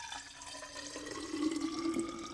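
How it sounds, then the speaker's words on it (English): Tap water runs steadily into a container holding about 32 ounces of water for a homemade electrolyte drink, with a constant splashing hiss whose pitch rises as the vessel fills. "I'm going to fill this thing up."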